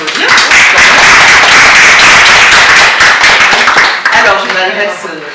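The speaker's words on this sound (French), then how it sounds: "Bon, on vous applaudit." A small group claps together during a coaching session, a dense, even patter of hands that thins toward the end, with some voices mixed in.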